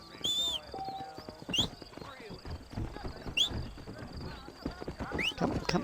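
A horse's hooves clip-clop unevenly in Red Dead Redemption, with brief whinnies and faint background game sounds, fairly quiet and mixed with scattered effects.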